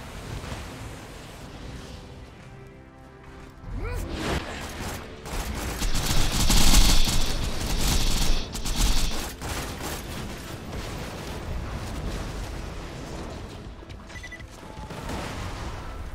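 A tank blows up after being shot in Borderlands 2, a loud burst of blasts and crashing debris peaking midway through dense game combat noise with gunfire, then settling into a steady rumbling din.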